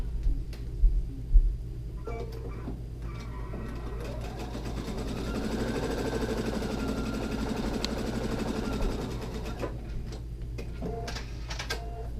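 Sewing machine joining quilt fabric squares for an antique tile block, right sides together. Stitching runs steadily and moderately loud through the middle, with a few knocks and brief pauses near the start and end.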